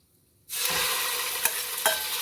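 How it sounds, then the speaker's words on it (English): Pork pieces dropped into hot oil in a pan for browning set off a loud, steady sizzle that starts abruptly after a brief silence, with a couple of sharper crackles and pops. "So we're going to start browning our pork first. Go ahead and put that in some hot oil."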